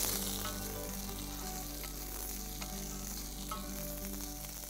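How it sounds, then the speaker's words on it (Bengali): Halwa fries gently on low heat, giving a soft, steady sizzle with a low constant hum underneath and faint stirring scrapes scattered throughout. "খানিকক্ষণ হালকা আঁচে ভাজবো।"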